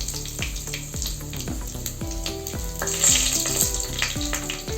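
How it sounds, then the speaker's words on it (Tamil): Four dried red chillies dropped into hot oil with bay leaf and spices for tomato rice, a close, steady sizzle with regular stirring knocks and scrapes, swelling louder midway. "4 வரமிளகாய் போட்டுக்கலாம்."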